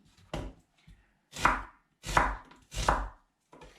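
A knife chops half an onion on a board in about five distinct, close cuts with short gaps between, crisp and fairly loud, with no talk.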